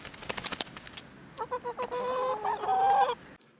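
Chickens cluck nearby in a city, in short bursts, then a longer run of clucking and a drawn-out squawk, with faint clicks early on.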